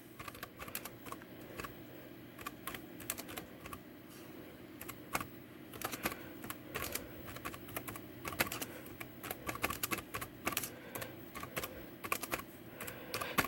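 Fingers typing on the keyboard of a 2004 Dell Inspiron 1000 laptop, a quiet, close run of irregular key clicks and taps going on throughout without speech.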